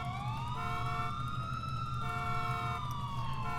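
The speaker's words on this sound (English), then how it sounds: "hit my siren, or my lights" A police car siren in GTA IV with the LCPDFR mod wails steadily and loudly, its rising and falling tones sweeping continuously over a low engine rumble.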